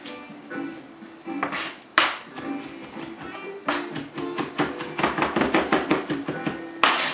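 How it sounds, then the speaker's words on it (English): Knife chopping sticky food finely on a board: steady, close rhythmic thuds that speed into rapid repeated cuts toward the end, with a few louder knocks mixed in and no talking. "I just kind of keep moving and chopping it across to try to get it very fine"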